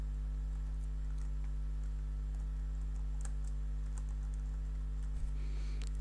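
Faint, sparse keystrokes on a computer keyboard while filling in a Google Form quiz, barely rising above a steady electrical hum that runs throughout.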